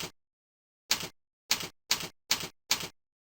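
Sparse, isolated taps on a computer keyboard while code is typed, six crisp clicks separated by silence, the last five coming in a fairly even rhythm, close and clean with no talking.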